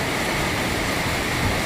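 Steady, dense hiss of heavy rain pouring without a break in a village by a main road, a constant broadband roar with no voices.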